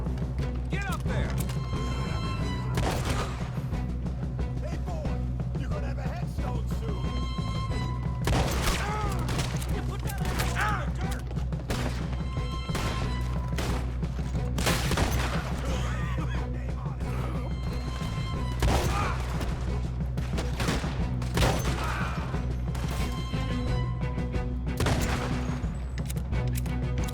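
Shotgun blasts ring out in the Western action game Red Dead Redemption 2, a series of sharp booming shots spaced irregularly amid mechanical clatter, with talk running over them.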